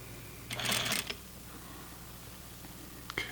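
A sewing machine runs a short burst of stitching on flannel pajama pants, close and mechanical, followed by a quiet pause and a brief second whir near the end.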